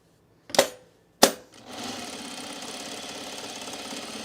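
A sewing machine stitches a facing onto a cargo shorts pocket: two sharp clacks, then the motor settles into a steady, fast whirring run, close and moderately quiet.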